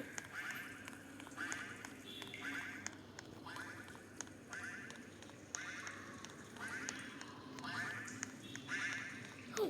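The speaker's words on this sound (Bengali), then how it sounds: "এখানে একটা হাঁস আছে। ওই হাঁসের শব্দ আসতেছে।" A duck in the Roblox prison-escape game quacks again and again in short, even bursts spaced about a second apart, moderately clear over a low background hum.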